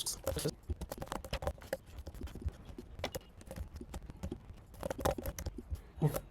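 Rapid, uneven clatter of keys on a computer keyboard while SQL code is typed, in quick bursts of close, crisp taps with brief pauses between.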